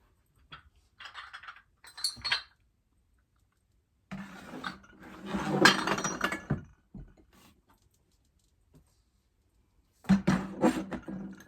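Glass dishes clink and rattle in short bursts separated by silent gaps, close and moderately loud as items are handled and set down.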